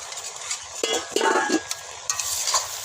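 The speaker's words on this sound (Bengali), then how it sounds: "এবার একটু ভালো করে নেড়ে নেবো।" A spoon stirs a thick curry of fish with pumpkin stems, potato and brinjal in a pan, giving close, fairly loud scraping strokes and clinks over a low sizzle.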